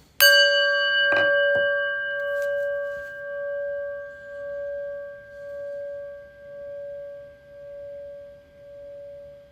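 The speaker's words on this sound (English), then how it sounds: "listen to the prayer bell" A single prayer bell is struck once and rings out clearly, its pure tone slowly fading in gentle pulsing waves.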